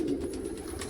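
A sick pigeon suffering from a wasting illness gives a low, steady cooing close by, one continuous murmur with no voices.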